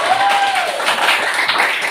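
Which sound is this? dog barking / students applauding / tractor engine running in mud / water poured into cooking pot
students applauding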